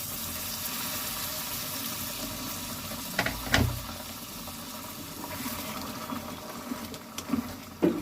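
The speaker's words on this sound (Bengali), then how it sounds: "অল্প গরম জল দেব এতে।" Hot water poured into a pot of prawn biryani in a home kitchen, a steady faint liquid hiss with a few soft clinks and splashes, no talking.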